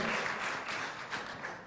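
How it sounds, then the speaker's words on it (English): An audience at a tourism conference claps for a speaker, a dense, fairly quiet patter of many hands that holds steady for under two seconds. "You may clap your hands as well for Pak Fajrin"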